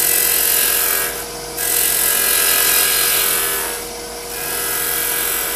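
Wood lathe with a gouge cutting a walnut bobbin, a loud steady whirring hiss with a high shrill edge, dipping briefly twice as the tool eases off, then resuming, close by with no speech.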